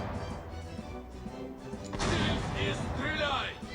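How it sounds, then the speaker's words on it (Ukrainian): Cannon fire smashing into an enemy ship's stern in the Pirates of the Caribbean video game, a heavy crashing impact with splintering booms midway, following softer battle noise, with someone talking over it. "Окей з гармати розбили йому корму."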